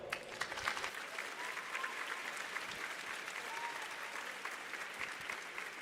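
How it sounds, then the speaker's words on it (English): Sustained, dense audience applause fills a large venue at a regional robotics competition in New York's Tech Valley, a continuous wash of many hands clapping at a moderate distance without a break. "give a warm round of applause to the Chief Digital and Information Officer from MVP Healthcare"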